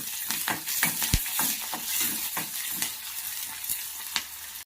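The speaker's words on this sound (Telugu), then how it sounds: "కరివేపాకు కొద్దిగా వేసుకొని ఫ్రై చేయాలి" Onions and curry leaves fry in an oily pan while being stirred, a steady close sizzle broken by repeated scraping strokes of a spoon, no voices.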